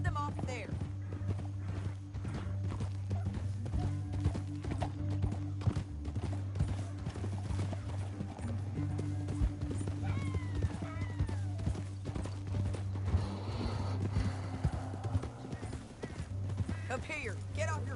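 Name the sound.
horse hooves clip-clopping in a Western video game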